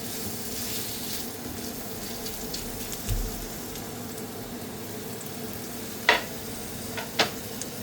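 Onions and leftover cooked beef frying in a pan, a quiet continuous sizzle with a soft knock and a couple of sharp utensil clinks near the end, no voices.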